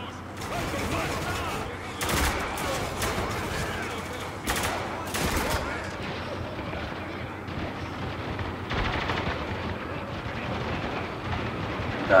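Sustained gunfire in the Spec Ops: The Line shooter game, with repeated loud bursts and sharp broadband shots over a dense battle din, and voices partly in the mix.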